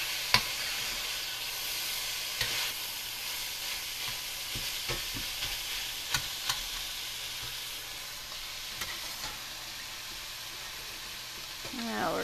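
Keto pizza casserole ingredients fry in a pan with a continuous, close sizzle and hiss, punctuated by occasional scraping and tapping from a utensil, with no talking heard.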